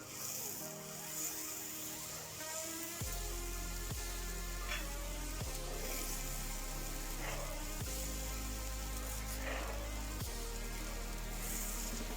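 Murighonto is stirred in a pan, giving a faint, soft sizzle broken by a few regular scraping strokes of the spoon.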